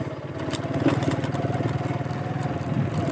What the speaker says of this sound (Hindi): मोटरसाइकिल पर अस जा रहे हैं